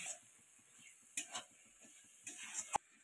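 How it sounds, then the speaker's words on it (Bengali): Flat beans are stirred in a pan to dry them out, with quiet rhythmic scraping and light ticking from the spoon, two brief louder clatters of metal, and a faint steady hiss underneath. "এবার খুব ভালো করে নাড়াচাড়া করে আমি শুকিয়ে নেব"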